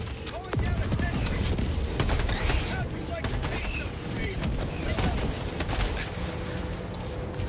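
A rocket turret in the video game Helldivers 2 keeps firing in a dense, unbroken barrage of gunfire and blasts that fills the whole stretch at a steady, loud level.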